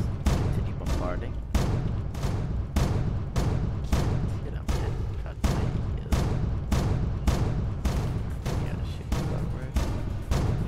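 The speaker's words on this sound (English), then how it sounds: "Let's continue bombarding." A ship bombards with repeated gunfire in the Roblox game Project Stardust, a steady series of sharp booming shots about every half second, loud and rhythmic throughout.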